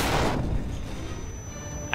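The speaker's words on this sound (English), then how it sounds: "Getting shot from a bunch of guys." Enemy gunfire in the video game GoldenEye Reloaded: a loud burst of shots at the start, then a steady rumble of combat noise and another sharp blast right at the end.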